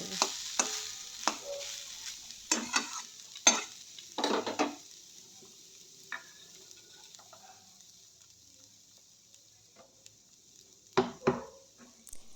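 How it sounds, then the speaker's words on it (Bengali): Coconut dry-roasting in a pan until reddish, with intermittent scraping and stirring clatter from a spatula against the pan, loud bursts early and near the end separated by quieter stretches of faint sizzle. "এবার নারকেলটা ভেজে নেবো একটু লাল করে"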